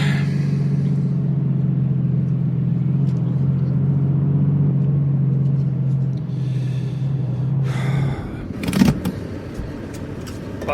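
Car driving as a radio drama effect, a steady low engine hum that runs evenly then cuts off, followed by a brief rustle or door-like clunk near the end.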